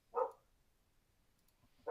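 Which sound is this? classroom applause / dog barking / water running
dog barking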